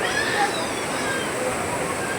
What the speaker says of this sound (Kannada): ಒಂದು ದೇವರ ದೇವಸ್ಥಾನದ ಸುತ್ತ ಹರಿಯುವ ಹೊಳೆ